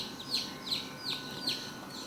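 Hens near newly hatched chicks, giving four short, high chirping calls spaced evenly at close range over a quiet background.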